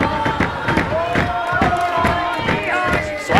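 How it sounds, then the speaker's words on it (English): Wrestling crowd at a Passion Pro 4 show chanting Péter Tihanyi's name, loud rhythmic group chanting with repeated pulses and general crowd noise around it. "leading the crowd in that Péter Tihanyi chant"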